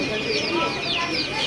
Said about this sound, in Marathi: आपल्याला छोटेवाले ना कोंबडीची कलरफुल अशी पिल्लं पाहायला मिळतात